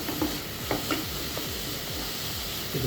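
Carrot halwa stirred in a pan after cardamom powder and ghee-fried cashews are added, a spoon scraping in steady strokes over a soft, continuous sizzle with no talking.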